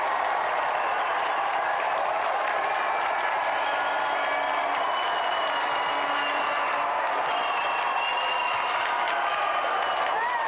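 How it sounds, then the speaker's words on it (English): Steady applause from a TV studio audience, sustained clapping throughout with a faint murmur underneath. "give a round of applause for our 3 volunteers"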